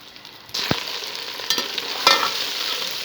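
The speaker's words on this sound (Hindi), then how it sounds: "माशाल्लाह हमारी भिंडी फ्राई हो रही है।" Okra (bhindi) drops into hot oil with a sudden burst of sizzling, then fries in a steady crackle with a few louder spatters and stirring scrapes, close and alone.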